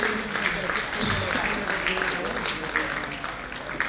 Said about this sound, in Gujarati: જોરદાર તાળીઓથી આપણે આ સન્માનને વધાવી લઈએ